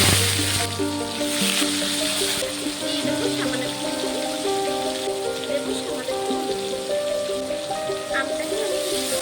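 Pieces of raw green mango go into hot oil already holding dried red chillies and mustard seeds, and the oil answers with a continuous, fairly loud sizzle and crackle under a steady background of tonal music.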